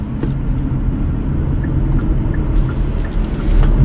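A Hyundai Kona Electric with a 64 kWh battery drives on a road at minus four degrees, giving a steady low cabin rumble with tyre and road noise and no talking.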